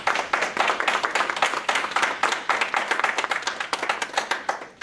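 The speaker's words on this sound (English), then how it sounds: "if we can give a quick round of applause for Nick." A small meetup audience of an R user group gives a quick round of applause for a departing organizer, with distinct, fairly sparse hand claps in an uneven rhythm that holds steadily for about five seconds before trailing off.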